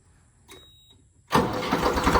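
A Ford 3600 tractor engine cranks with a brief click, then catches and roars to life, settling into a loud, rumbling run close by after a quiet moment.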